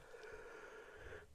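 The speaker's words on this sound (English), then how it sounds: "that was a yawn out of nowhere" A single drawn-out yawn, breathy and voiced, lasting about a second before trailing off, heard up close.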